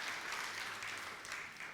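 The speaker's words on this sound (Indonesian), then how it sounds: "Tepuk tangan dulu bagi Tuhan kita" Congregation clapping for God during a church sermon service, a dense steady patter of many hands throughout, moderately distant and fairly even in level.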